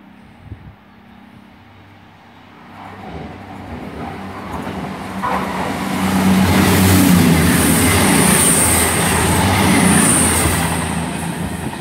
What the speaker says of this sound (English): passing through now a cross-country service from Manchester Piccadilly to Bristol Temple Meads.